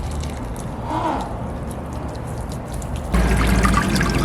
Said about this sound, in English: It took ages of just dripping through the sand, and then finally the water level emerged.